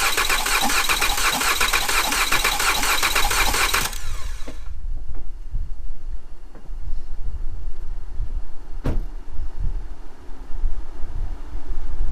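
Mazda 6 with a 3.0 V6 engine cranking during a compression test, a loud rapid rhythmic starter churn for about four seconds that cuts off, followed by quieter low rumbling and a few faint clicks.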